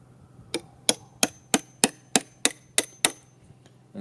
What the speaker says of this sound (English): So what I do is I just connect the dots with my chisel.